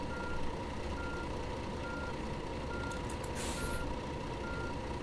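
A tourist bus in the Tourist Bus Simulator game reverses with an evenly spaced electronic beep repeating at a steady pace, over a constant engine hum, plus a short hiss partway through.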